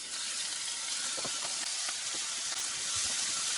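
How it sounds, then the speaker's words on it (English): Steady, dense sizzling from shrimp frying in a hot pan, with faint crackles and pops throughout, close and continuous with no voices. "Then grill shrimps in a frying pan."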